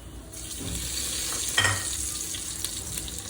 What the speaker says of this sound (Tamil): எண்ணெய் காஞ்சதும் மசாலா ஐட்டம்ஸை போடணும்